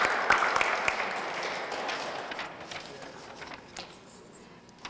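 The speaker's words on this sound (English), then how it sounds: "But we'll clap for her." An audience claps for an absent honorable-mention winner at a photo award ceremony, a dense burst of applause that is loudest at the start and thins out steadily, with faint talk underneath.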